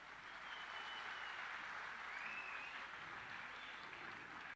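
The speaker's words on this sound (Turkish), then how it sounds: "değerli siyaset büyüğümüze kuvvetli bir alkış" A crowd at a gathering gives applause for a political figure, heard as a faint, even wash of clapping that holds steady before a sudden loud knock at the very end.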